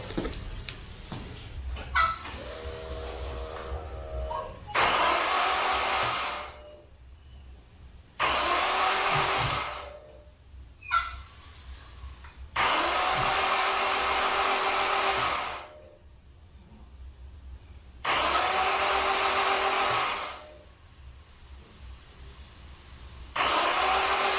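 A car engine that has not run in four years cranks repeatedly without firing: about six long, whirring starter bursts of a few seconds each, separated by short pauses of near quiet.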